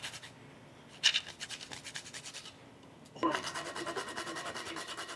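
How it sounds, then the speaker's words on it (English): Whole nutmeg is grated on a dry zester with quiet, close rasping strokes: one brief scrape, a pause, then a longer run of rhythmic back-and-forth scratching. "I'll grate in a little nutmeg."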